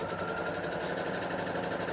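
A sewing machine runs in a steady, continuous whir of close, even stitching, with no voices over it, as a bulk sewing batch is worked through.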